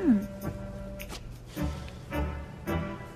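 A phone ringtone goes off in a Tagalog comedy film scene, playing a short run of repeating melodic tones at moderate volume after a brief sliding tone at the start.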